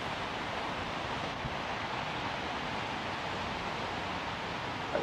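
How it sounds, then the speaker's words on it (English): Steady, roaring wind gusts across an open fishing lake during a match-fishing session, a dense broadband rush with no pauses or spoken voices. "you can hear it's really windy"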